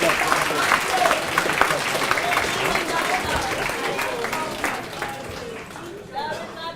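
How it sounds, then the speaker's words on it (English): Audience applause fills a manifesto launch rally, a steady dense wash of clapping from a large crowd with voices and chatter mixed in, continuing throughout and thinning slightly near the end. "A round of applause"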